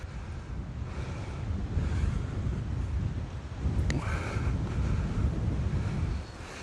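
Wind gusts across a hilltop golf course, buffeting the microphone in a steady, rough roar with brief surges and a faint tonal blip partway through.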